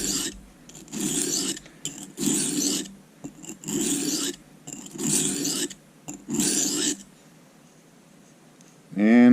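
A 1095 steel paring knife is stroked across a sharpening stone to raise a burr, giving five rhythmic rasping strokes of about a second each with short pauses between, close and clear.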